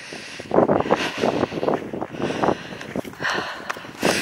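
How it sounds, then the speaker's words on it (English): Gusty wind buffeting the microphone on an exposed coastal hilltop, loud irregular rumbling blasts rising and falling throughout. "It's windier up here."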